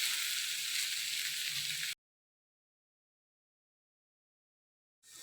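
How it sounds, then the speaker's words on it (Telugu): Garlic cloves and ridge gourd pieces fry in a pan with tamarind, a soft, close sizzle lasting about two seconds before a sudden cut to silence, then a brief return at the end. "సరే మొత్తం కలుపుకొని పచ్చివాసన పోయే వరకు వేయించుకున్నాం"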